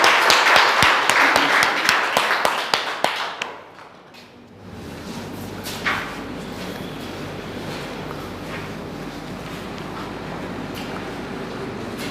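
Loud, dense clapping from an audience at a school results celebration, sharp individual claps over a steady roar for about three seconds, then dropping off to quieter room noise and murmur.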